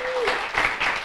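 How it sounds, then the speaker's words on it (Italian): A church congregation at an Italian evangelical revival service breaks into a short burst of applause, a brief wash of many hands clapping just after a voice trails off. "Facciamo un applauso a Dio."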